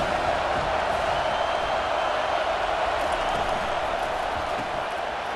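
Stadium crowd in the College Football 25 video game during a Miami versus Wake Forest matchup, a steady, dense roar of cheering that holds at an even level throughout.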